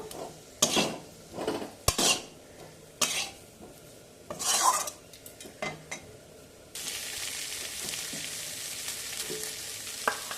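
Vegetables tipped into a pot of fried spice paste for cauliflower biryani, with scraping stirs and clinks of a spoon against the pot, then a steady loud sizzle taking over.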